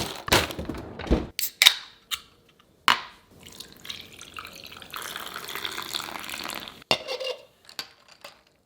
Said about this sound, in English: So gotta rinse all this stuff,